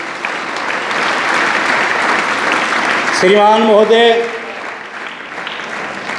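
Audience applause for a tenth-grade student at a school event in a village, steady broadband clapping from many hands throughout, with someone briefly speaking over it midway.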